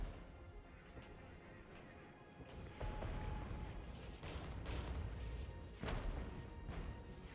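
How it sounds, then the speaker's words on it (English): Enemy indirect artillery fire in the WWIII real-time strategy game Regiments: a dense run of booming blasts and crashing impacts that swell louder partway through, with several sharp explosive bursts rising over a continuous rumble of battle. "The enemy's definitely hitting me with indirect fire from over here."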